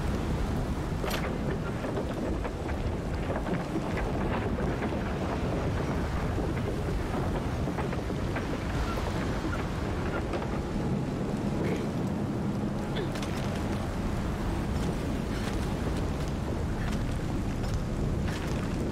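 Wind gusts roar steadily and loudly in Shadow of the Tomb Raider, a dense, continuous rush lasting throughout with faint scattered sounds beneath it.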